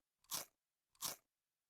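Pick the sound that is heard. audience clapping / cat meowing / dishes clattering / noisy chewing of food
noisy chewing of food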